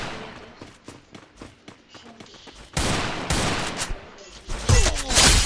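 Gunfire in a shooting video game, bursts of rapid automatic shots and heavy sustained firing growing louder toward the end, close and dense with a voice briefly under it.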